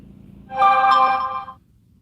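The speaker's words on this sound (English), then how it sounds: "Here come all the crypto notifications, all my daily news." Phone notification alert for crypto and daily news updates, a single bright chiming tone lasting about a second, clear and close, with no talking.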